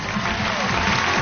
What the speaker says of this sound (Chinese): 掌声送给陈俊松先生。